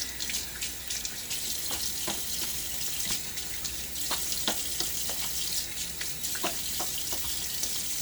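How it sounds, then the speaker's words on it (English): A double-edge razor is rinsed under a running tap, the water hissing steadily and close by with brief splashes and clinks as the razor is moved under the stream. "Sorry to kind of rinse off camera"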